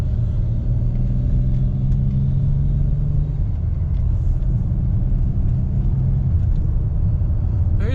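A Chrysler 300 engine revs under throttle from inside the car, giving a loud, steady low rumble with shifting tonal bands as it pulls, and no voices.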